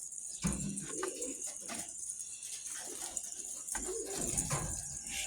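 A pigeon among young birds coos in low repeated phrases, two clear bursts separated by a pause, over a steady high hiss of background noise.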